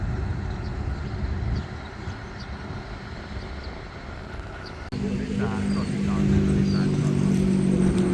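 A diesel railcar, train no. 356 from Nong Pla Duk Junction bound for Bangkok Hua Lamphong, pulls into Bang Sue Junction station, its rumble and engine drone swelling midway over steady station ambience with a voice in the background.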